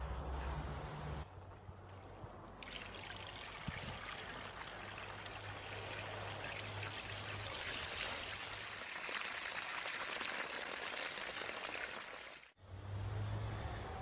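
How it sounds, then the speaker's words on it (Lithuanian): Rainwater drains through a roof gutter fitted with a leaf guard during a downpour, a steady rushing trickle and splash that runs continuously at close range, with a brief break near the end. "Atkreipkite dėmesį, kaip gerai vanduo nuteka po sistemos dalimi šiek tiek."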